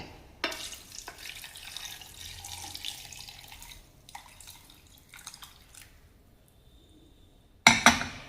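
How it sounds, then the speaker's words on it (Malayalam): Tender coconut water is poured into a blender over chia seeds and moringa leaves, making a trickling, splashing pour for a few seconds. It fades to quiet, and a sharp clink or knock follows near the end. "ഇനി കരിക്കിൻ വെള്ളം ഒഴിക്കാം."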